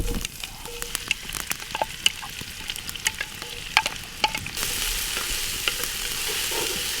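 Onions sizzle steadily in a pan for chorizo a la pomarola, cooked outdoors in the Canadian snow, with scattered clicks and scrapes of stirring and a louder, denser hiss toward the end.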